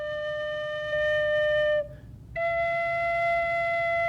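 Bamboo flute playing two sustained notes in rising sequence, a steady pure tone that swells slightly, breaks briefly, then a higher note held clear and alone.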